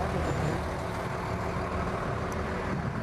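Ham's Glass truck rolls past in a small-town Memorial Day parade, a steady low engine rumble with a broad noisy wash, continuous and moderately close, with no speech over it.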